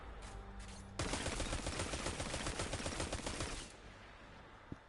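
Horror Story automatic weapon firing in Destiny 2, a loud rapid sustained burst of shots lasting a few seconds before cutting off, with a quieter lull before and after.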